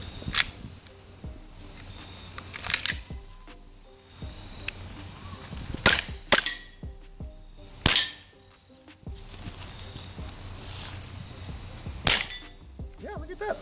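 An airsoft Glock 19X pistol fires BBs in sharp, snappy cracks, single shots and quick pairs spread across the stretch, close and loud against a quiet background with faint handling clicks between.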